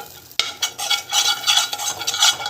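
Chili powder being sautéed in hot oil, with a spoon scraping and stirring in close, loud bursts over a steady sizzle.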